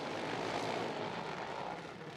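Junior dragsters race down a drag strip at a drag racing world finals, a loud continuous broadband engine roar that swells and then slowly fades as the cars pass.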